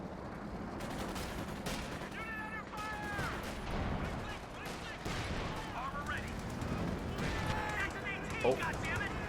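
Gunfire in the Company of Heroes 2 strategy game: scattered shots and bursts of machine-gun fire over a busy battle din, with a commentator talking over the action.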